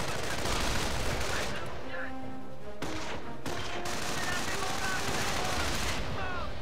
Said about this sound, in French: La mitrailleuse lourde retient Ebol, pas un bruit.